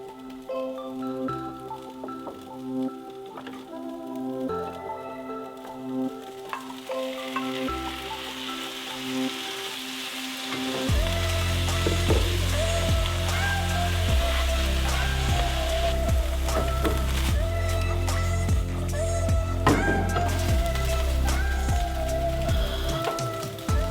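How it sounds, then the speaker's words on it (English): Tofu and chickpeas fry in a pan with golden red onion and garlic, a soft crackle at first that turns into a loud, dense, rain-like sizzle, steady and close for the rest of the clip. "Now I am going to add the tofu and the chickpeas, since the onion and the garlic is already a little bit golden."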